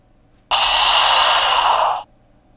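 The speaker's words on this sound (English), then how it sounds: "That is the sound of a Gravios' stupid lava laser!" A Gravios lava laser attack from a Monster Hunter video game, a loud, steady roaring hiss and whoosh that bursts in suddenly, holds for about a second and a half, then cuts off cleanly, with no speech.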